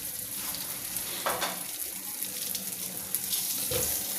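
Green okra (bhindi) fries in hot oil with a dense, steady hiss, and a few louder spatters and stirring scrapes rise above the constant sizzle.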